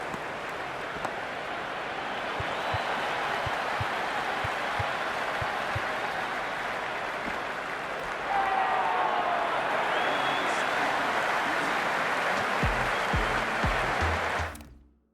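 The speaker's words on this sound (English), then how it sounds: "It's evident and ever so audible that the crowd is at near bursting point at today's play" A stadium crowd in a South Africa versus New Zealand cricket video game roars and applauds steadily, a loud continuous wash of cheering that swells slightly in the second half, with no talking over it.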